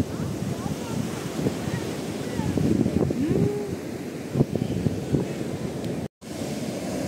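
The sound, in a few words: rough sea waves at a beach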